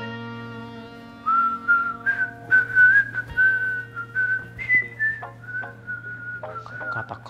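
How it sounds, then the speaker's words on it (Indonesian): Someone whistles a wavering, tuneful melody in short, sliding phrases, close and prominent over a low, steady background hum. "Siul-siul, suaranya kagak enak."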